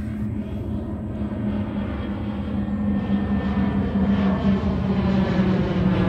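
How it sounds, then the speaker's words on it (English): A private jet's engines roar in a steady, loud, continuous drone that builds slightly over a few seconds, with a sustained low hum and no talk. "Private jet, y'all."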